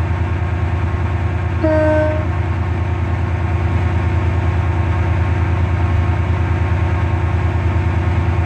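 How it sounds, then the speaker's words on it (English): A Class 68 train's deep, steady rumble fills the air in Roblox as it arrives at a platform, with a short horn-like tone sounding briefly near the start. "The train now approaching platform 2 terminates here."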